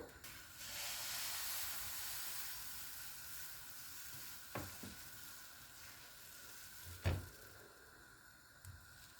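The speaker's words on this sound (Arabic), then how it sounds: "غنمروا باش نطيبوا البغرير ديالنا من بعد ما سخنت المقله ديالي مزيان" Baghrir batter sizzles in a well-heated pan in a home kitchen: a steady, quiet hiss that continues throughout, with a few soft clicks and taps along the way.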